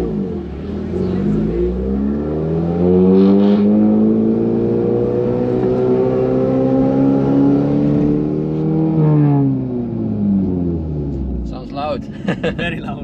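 An Audi S1 tuned to about 350 hp with a loud valved, near-straight-piped exhaust accelerates hard on the Nürburgring, a deep, loud engine roar climbing steadily in pitch before easing off near the end.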